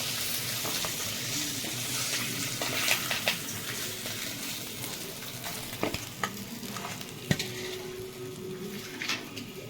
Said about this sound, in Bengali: এইগুলো আমি ভালো করে ভেজে নেবো